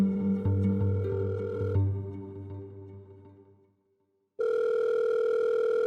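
A telephone dial tone sounds as a phone call is placed, first a ringing, harmonically rich tone that fades to near silence, then a steady, loud continuous tone resuming abruptly and holding to the end.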